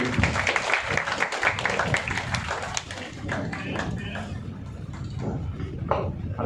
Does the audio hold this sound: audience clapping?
yes